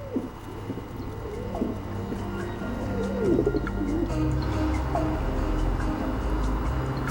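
Urban pigeons cooing around a nest, several low rounded coos repeating close by over a steady background of city traffic rumble.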